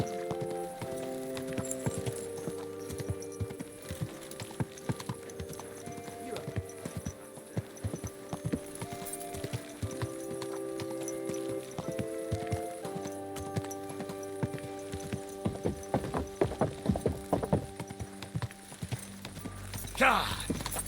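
Horse hooves clip-clopping in the video game Kingdom Come: Deliverance II, a steady walking rhythm of sharp hoof strikes under a music score, with a voice speaking briefly.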